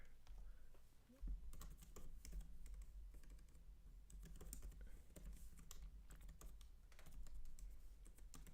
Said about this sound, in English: Can't be typing in my Google password on stream